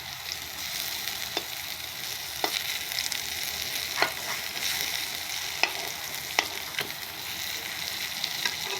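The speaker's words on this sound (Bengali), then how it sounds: "এবার পটলগুলা উল্টাই দিচ্ছি। কড়া ভাজা না, হালকা ভাজা দিয়ে নিচ্ছি" Pointed gourd (potol) pieces lightly frying in a pan, giving a steady soft sizzle with occasional sharp clicks and stirring scrapes, close and continuous with no voices.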